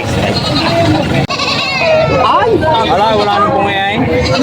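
A female native Tagalog goat at a livestock market in Padre Garcia, Batangas, gives repeated close, wavering bleats over crowd babble, with people talking nearby.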